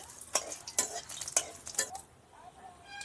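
Whole spices such as bay leaf and dried chilli stirred in hot oil in a pan for a Bengali bottle gourd dish, with several sharp scraping stirs and a soft sizzle that fades after two seconds into quiet hiss.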